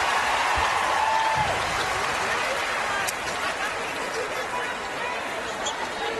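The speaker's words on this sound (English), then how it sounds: "she gets an outstanding ovation from the crowd here" Crowd at an SEC women's basketball game between LSU and Tennessee gives a departing player a sustained ovation, dense applause and cheering filling the arena, easing slightly partway through, with an announcer's voice faintly underneath.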